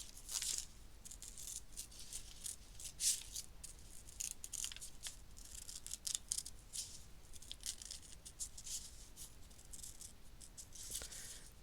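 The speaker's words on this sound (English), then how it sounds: "I'm just going to cut out that highlighted piece" Scissors snipping through fabric while cutting a highlighted piece of hair shape for a slow-stitch portrait, a quiet series of short crisp cuts and rustles recorded close up, with no talking.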